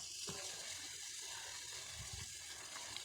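A pot of curry with bok choy and pork bubbling on the stove, a faint, steady watery burble with a few soft pops, heard alone.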